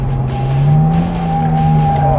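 Italian four-seat supercar sweeping through a corner and riding over the kerb on a race track, engine holding a loud steady drone with a high whine running alongside throughout.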